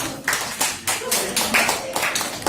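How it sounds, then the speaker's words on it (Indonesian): A classroom of students claps for a presenting group, loose uneven bursts of hand claps close by, several distinct rhythmic slaps standing out from the patter. "Beri tepuk tangan untuk kelompok MK."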